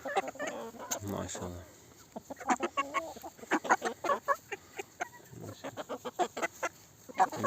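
Young pullet chickens, about six months old, cluck and murmur nearby in a farmyard, with short clucks scattered throughout while someone talks over them.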